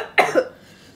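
After eating spicy nuclear ramen, a woman gives a single sharp, close cough followed by a softer second burst, then quiet.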